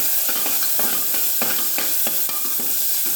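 Capsicum, beans, peas, carrot and cabbage with salt and turmeric are stirred in a hot pan, scraping strokes repeating in an uneven rhythm over a constant sizzle.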